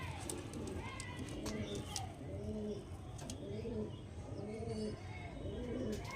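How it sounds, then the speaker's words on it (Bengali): Andhra pigeons in a home loft coo in a steady run of soft, repeated rolling calls, fairly close, with background murmur and scattered faint chirps and clicks. "এগুলো সবই পুরো পার্সোনাল পায়রা আমার"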